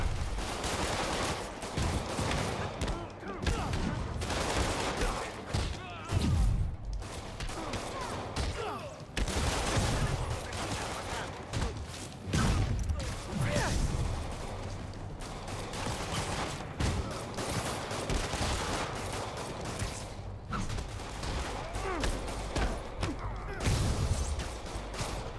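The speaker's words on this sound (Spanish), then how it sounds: "No sabían, pero estoy en medio de los balazos. Por favor, deberían dejar de disparar." Heavy gunfire in the Spider-Man video game, with bursts of rapid automatic shots and single cracks repeating over a loud, busy action soundscape that includes thuds and crashes.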